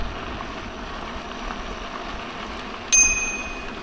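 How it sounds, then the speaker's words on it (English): A manual bicycle bell on an e-bike rings once on a quiet rail trail, a single bright ding that lingers briefly over steady riding and wind noise. "It's a manual bell."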